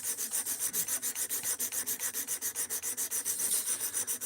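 An Ozark Trail axis-lock knife with a D2 steel blade is drawn across a sharpener in quick, even rasping strokes, about six per second, close and fairly quiet with no talking.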